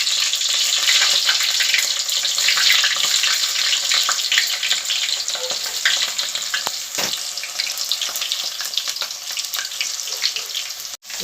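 Onion pieces frying with mustard seeds in oil for sambar, a steady close, bright sizzle throughout with occasional stirring clicks and scrapes.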